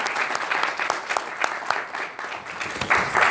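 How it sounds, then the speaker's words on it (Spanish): Audience applause at a Mexican cartoonists' and comic artists' day gathering, a lively burst of many hands clapping with sharp individual claps standing out, close and sustained throughout. "un aplauso pues por convocarnos aquí en este día tan especial"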